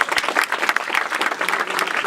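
A crowd at a New Year's greetings event claps steadily, continuous close applause filling the short moment with no pauses.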